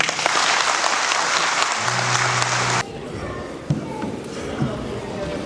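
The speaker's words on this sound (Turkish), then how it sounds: "Genel Başkanımız, Belediye Başkanımıza alkışlıyoruz efendim" Applause from a large crowd at an Anatolian regional gathering, a loud steady roar of clapping that drops abruptly partway through to a thinner, scattered patter with occasional sharp claps.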